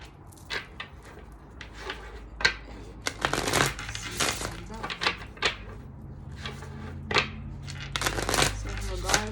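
A deck of cards being shuffled up close, with repeated riffling bursts and soft clicks, rising in intensity toward the end.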